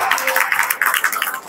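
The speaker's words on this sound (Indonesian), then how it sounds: "Oke, tepuk tangan" Middle and high school students clapping their hands during a Qur'an study session, a short burst of quick, uneven claps close by with voices mixed in.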